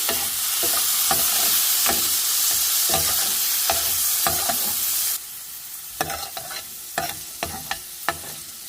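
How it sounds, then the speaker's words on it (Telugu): Sweet corn kernels fry in a pan for a taco filling, giving a steady broadband sizzle with sharp scraping clicks of stirring scattered throughout; the sizzle drops noticeably about halfway through while the irregular clicks continue, close up with no talking. "సో దీంట్లో కార్న్ కూడా యాడ్ చేసాము దీన్ని కూడా కాస్త ఫ్రై అవ్వనివ్వాలి"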